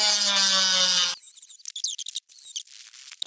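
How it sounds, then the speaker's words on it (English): A Dremel rotary tool grinds a plastic fan shroud on a Plymouth Duster, giving a loud, close, high whining buzz for about a second. It then cuts off, followed by scattered faint clicks and handling noises. "Go over that with the Dremel a little bit."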